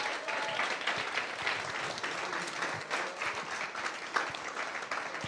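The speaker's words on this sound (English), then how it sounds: "let's give her a big round of applause as well" Audience applause at a graduation ceremony, a steady wash of many hands clapping through the whole stretch, fairly close and full, with no voices on top.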